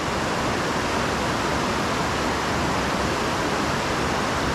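Steady broadband rush of water flowing over High Falls waterfall on low water, a continuous close roar with no breaks and no voices.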